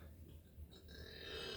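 A person burps, a faint low guttural belch of over a second with rough, uneven texture, heard alone in quiet surroundings.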